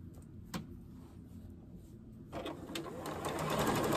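A sewing machine stitches wide seams in stretchy quilt fabric: a soft, close mechanical whir that starts quietly with a few small clicks, then speeds up and grows louder toward the end.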